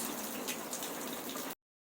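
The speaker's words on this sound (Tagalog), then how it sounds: "And akala ko kanina mahina lang yung ulan. Malakas pala." Heavy rain pours down on a wet New Zealand morning, a dense, steady hiss of falling water heard close and alone, cutting off abruptly after about a second and a half.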